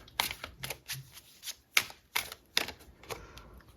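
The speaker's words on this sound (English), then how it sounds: "Let's pull some cards." Tarot cards are shuffled and pulled from the deck, producing a quick series of crisp riffling snaps and slaps at close range, irregular bursts with short pauses between them and no talking.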